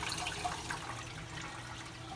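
Salt water draining from a home reef aquarium during a water change, a steady, fairly quiet rush of flowing liquid with no voices.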